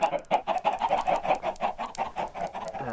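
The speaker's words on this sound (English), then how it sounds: "And then we have chicken farm in here." Chickens in a Minecraft chicken farm cluck steadily and repeatedly, a dense, close cluster of overlapping game-animal clucks filling the whole stretch with no talk.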